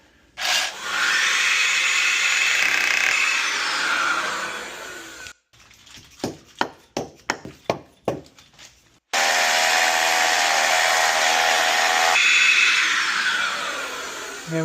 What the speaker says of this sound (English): Let's drill the floor.